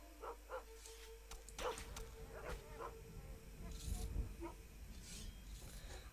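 A small dog running among deer in Stronghold Crusader gives faint yips and barks in quick short bursts, with someone talking over it.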